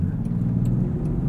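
Inline-six engine of a 2020 Land Rover Defender 110 SE while driving, a smooth steady low hum from inside the cabin with faint road noise, no talk.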